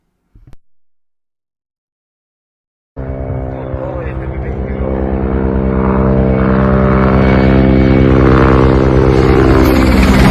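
A Ukrainian military helicopter passes extremely low, its rotor and engine roar bursting in after a brief silence and swelling louder and nearer as it approaches, with a strong steady harmonic drone.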